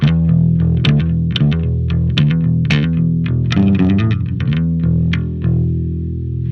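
An electric bass plays a run of plucked notes through a Line 6 Helix chorus-like effect, bright and punchy with a brighter top end, imitating a well-known bassist's tone.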